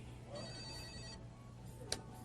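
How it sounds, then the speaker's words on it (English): A telephone bell rings in a repeated trill over a steady low hum, in a live radio studio broadcasting country music, with a brief sharp click near the end. "I believe the phone's ringing."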